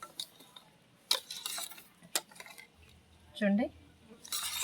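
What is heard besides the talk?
stirring green chili pickle mixture with oil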